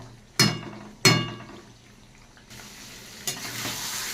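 Meat and potatoes coated in spices braise in a covered pan. Two loud metallic clanks of the lid open the scene, then a quiet simmer, then a steady sizzle with stirring scrapes.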